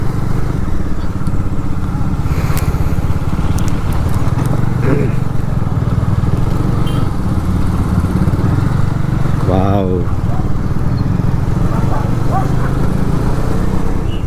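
A motorcycle rides along a road with a steady engine drone under continuous street noise and talk, with a few passing horn-like tones and traffic sounds around it.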